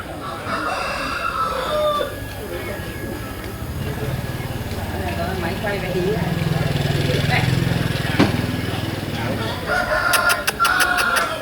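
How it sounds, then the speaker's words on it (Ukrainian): Chickens and a rooster call on a busy street in central Hanoi, Vietnam, amid steady traffic and engine hum, with clucking and crowing scattered through the noise and a few sharp clicks near the end. "О, там багато курей."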